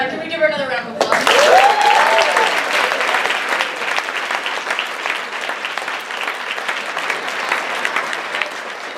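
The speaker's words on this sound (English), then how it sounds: "Can we give her another round of applause?" An audience at a keynote session breaks into loud applause after a brief voice at the start, the clapping swelling quickly, then settling into a sustained, gradually thinning round.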